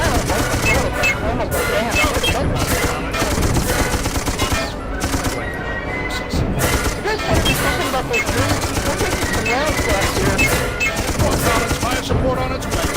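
Rapid gunfire from a Sir, You Are Being Hunted game session, dense bursts and repeated shots running continuously for the whole stretch at high volume, with a voice speaking briefly over the battle noise.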